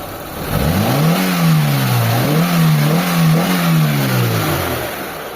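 A Mitsubishi Lancer GLXi engine, freshly serviced with cleaned injectors, revs up close by in a series of about four smooth rises and falls, each climbing and settling back without stumbling.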